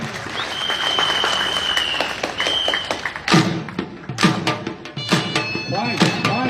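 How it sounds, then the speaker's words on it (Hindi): Applause at a school P.T. show, a dense stretch of clapping first, then sharper irregular thumps and claps over crowd noise in the second half. "बहुत तालियां।"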